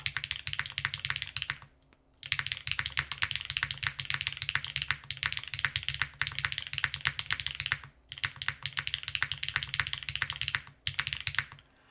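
Rapid, continuous typing on a custom Wraith 60 mechanical keyboard, crisp clacky keystrokes in dense bursts with a few short pauses, close and clear with no talking.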